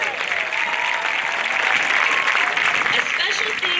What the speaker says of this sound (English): Please join me in giving a round of applause for the 2019 Homecoming Corps.